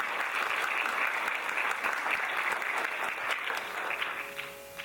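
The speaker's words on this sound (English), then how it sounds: "Please give a big round of applause for Mathura Vishwanathan." Steady applause from an audience at a Bharatanatyam arangetram, moderately loud and continuous, fading a little toward the end.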